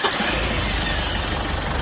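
A car engine rebuilt from scratch runs steadily at close range, a constant mid-pitched idle with no speech over it.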